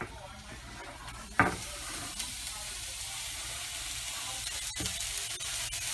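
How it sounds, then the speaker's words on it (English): Ground chuck burger and chopped onions fry in a skillet with a steady, moderate broadband sizzle, broken by a sharp knock of a utensil near the start and another scrape later. "I got my burger in the skillet, starting to fry up"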